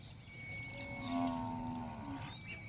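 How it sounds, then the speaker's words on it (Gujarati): Buffaloes behind a house low and moo in a drawn-out, resonant call that swells in the middle and fades, fairly close with steady background noise and no talking. "પાછળ પણ ભેંસો છે"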